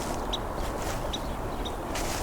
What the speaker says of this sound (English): This is the Carolina wren